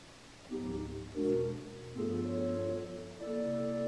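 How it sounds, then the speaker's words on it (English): A soft, hollow pipe organ tibia stop, a large open wooden flute pipe, playing a few sustained notes in sequence, steady and warm with no wavering, alone without any talking. "This is a tibia, which is just a big fat open, wooden flute."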